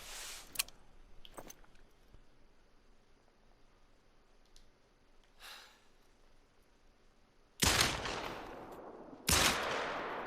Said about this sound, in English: I definitely missed the second shot.